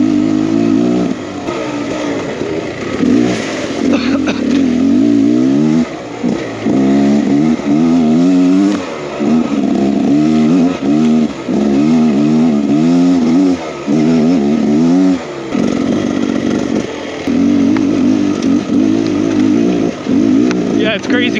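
A 2023 Beta X Trainer 300 enduro motorcycle climbs a mountain switchback trail. The engine is loud and close the whole time, with the throttle rolled on and off at low RPM in repeated rising and falling surges.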